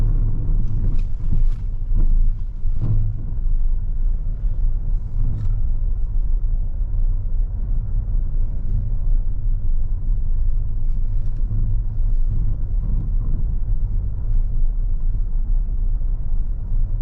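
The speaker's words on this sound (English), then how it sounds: "So the button was pushed and we are now in hill descent mode." A Proton X50 rolls slowly down a bumpy hill in hill descent mode, giving a steady low rumble with wind noise and occasional knocks and thumps from the uneven ground.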